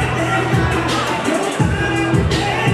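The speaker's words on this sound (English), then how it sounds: "The crowd are going wild there" Spectators at a boxing fight roar and cheer in a dense, continuous wall of crowd noise that stays loud and close throughout.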